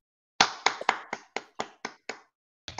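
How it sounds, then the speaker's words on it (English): Scattered claps from online meeting participants over their microphones, about ten sharp separate claps in an uneven run with a short gap before the last two. "can we just switch our microphones on and just thank Mick"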